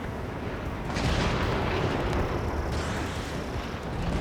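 A missile launches in an air combat video game, a loud roaring whoosh that swells after a second and rumbles on with a heavy, continuous low-end blast.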